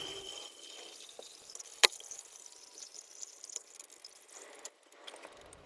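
Dirty old fluid drains from a car chassis on a V12 speedster project into a bucket, a quiet trickle and drip with one sharp clink partway through, faint and close with no voices.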